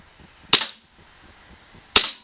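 Two sharp, close cracks about a second and a half apart from a KJWorks KP-09 CZ 75 blowback airsoft pistol being fired on a table top, each with a quick snap of the slide cycling, otherwise quiet.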